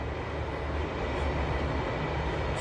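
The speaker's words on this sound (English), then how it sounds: "There's a train, country train going down to Melbourne." A country train bound for Melbourne rumbles past at a distance, a steady faint low roar of wheels and engine heard from a garden, with no talking.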